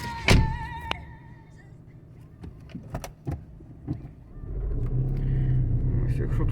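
A car drives along a rural road near farm fields, with a low engine rumble and road noise building toward the end, preceded by cabin thumps and knocks while someone talks.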